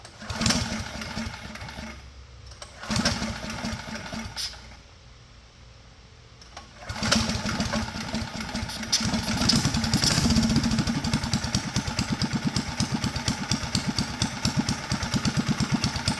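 A small engine sputters to life, cuts out briefly, then catches and settles into a steady, very low idle, loud and close with a dense rumbling throb throughout.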